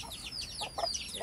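Aseel Shamo chickens give soft, close clucks in a short burst of several quick chirpy notes.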